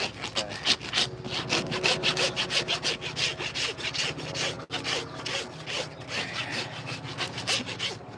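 A farrier trims a horse's hoof at a polo yard, rasping and cutting in quick repeated rhythmic strokes, close and fairly loud, with a brief pause partway through.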